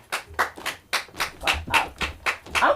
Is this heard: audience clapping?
yes